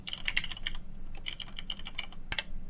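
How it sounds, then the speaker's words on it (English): Rapid typing on a computer keyboard, with clustered, uneven clicks and key taps at close range and one sharper thud near the end, over a low background hum. "Typing is good."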